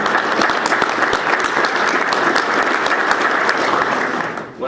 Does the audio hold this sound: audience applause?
yes